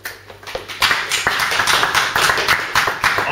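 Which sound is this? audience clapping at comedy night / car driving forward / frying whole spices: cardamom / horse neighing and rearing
audience clapping at comedy night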